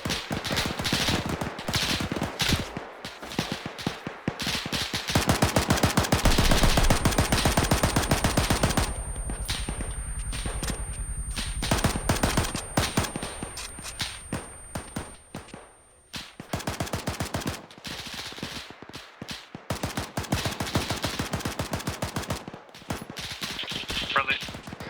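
Gunfire in the military video game Arma 3 comes as dense rapid automatic bursts and scattered single shots at varying distances, with a sustained heavy burst in the middle and radio voices talking in places.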